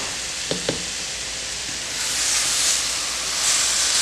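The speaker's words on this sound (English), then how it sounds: "I have let my seasoning and trumpet mushroom saute for about 10 minutes" Trumpet mushrooms and seasoning sauté in a pan with a steady, soft sizzle and hiss. Two short clicks sound early on, and the frying swells a little louder toward the end.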